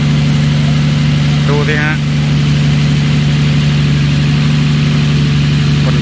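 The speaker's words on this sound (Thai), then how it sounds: "เครื่องสกายไลน์ RB26" A Nissan Skyline RB26 engine swapped into a Navara pickup idles with a steady, even hum close by, while someone speaks briefly over it.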